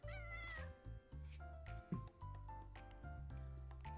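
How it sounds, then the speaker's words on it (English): A cat in the video game Little Witch in the Woods meows repeatedly over soft game music, with several distinct close meows and a brief caterwaul. "This cat is kind of shy."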